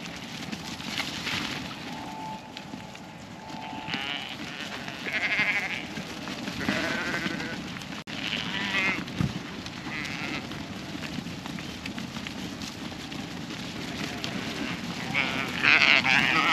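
Hill ewes wintering in a farm paddock bleat repeatedly at mid distance, several overlapping calls rising and falling over steady outdoor background noise, with a louder cluster near the end.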